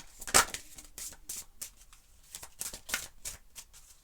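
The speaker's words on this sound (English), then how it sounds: "One last shuffle." Soft, crisp card shuffling close by, a series of quick papery flicks and riffles, fairly quiet, with no talking.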